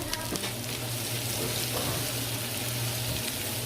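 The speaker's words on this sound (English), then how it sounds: "You just dump your onions in there" Chopped onions sizzle steadily in a pan over medium heat on a stove, a dense continuous frying hiss with a low hum beneath and a few clinks of stirring, close and fairly loud with no talking.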